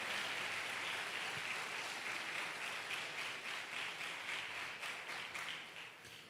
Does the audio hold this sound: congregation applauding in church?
yes